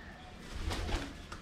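Pigeons used in kite-flying training coo in a brief, soft, low murmur at moderate distance, with a couple of rounded coo pulses and no talking.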